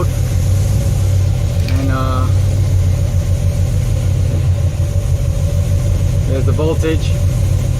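Big-block 7.4L 454 V8 in a 1974 Nova idles with a loud, steady low rumble close by, while someone talks over it several times.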